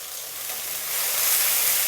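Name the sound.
red onion and dried chilli frying in pan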